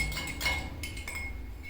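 A container of oil and water is shaken to form an emulsion, giving a few sharp rattling clinks and knocks of the vessel in quick irregular bursts, close and fairly quiet.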